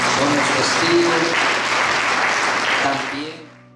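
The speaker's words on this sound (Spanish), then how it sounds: "Demos ese aplauso al Señor." Guests at a wedding ceremony in Sololá, Guatemala, break into dense, steady applause that fills the room at close range, then fades away over the last half-second.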